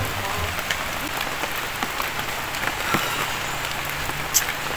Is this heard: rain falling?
yes